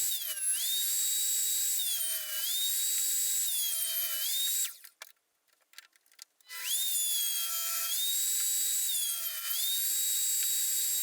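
A power tool with a fence cuts slots for a wooden desk joint: a high-pitched whine runs steadily, dips into a few brief cutting bursts and pauses, then resumes, close and loud with no speech.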